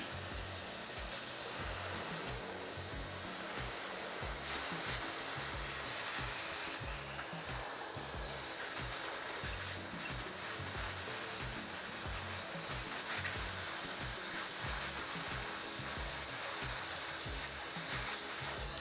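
Dental air-water syringe rinsing and drying an etched tooth, a steady close hiss of spray and air running continuously without pause, over a low pulsing background.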